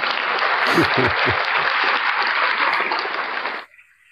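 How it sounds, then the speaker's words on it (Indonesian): Audience applause for someone leaving the stage at an Indonesian religious talk, a dense steady wash of clapping from a crowd with a few voices calling over it, then cutting off sharply near the end. "Tepuk tangan Bapak Ibu"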